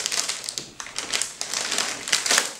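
Plastic packaging around an ASUS X79 Sabertooth motherboard crinkles and crackles as it is pulled open, in a quick run of close, bright rustling bursts with short pauses between them.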